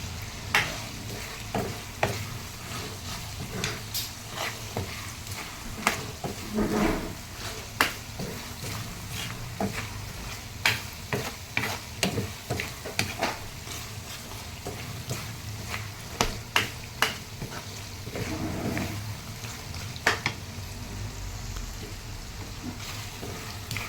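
Bagoong (shrimp paste) sizzling as it is stirred in a very hot pan with cooked pork and kalangga, frequent scraping strokes over a steady crackle, close and moderately loud, no talking.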